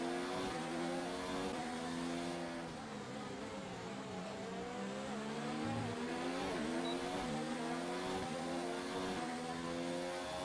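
Formula 1 car in the F1 2019 racing game pulling out of the pit lane at Baku, Azerbaijan, its high-pitched engine wailing steadily and loud throughout, with rising and falling tones as it shifts through gears.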